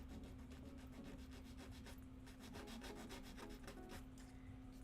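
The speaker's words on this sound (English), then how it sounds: "And I'll just sand it down a little tiny bit." A small wooden shelf for a handmade book nook is lightly sanded by hand, quick rhythmic rubbing strokes that sound close and faint, steady throughout with no talk.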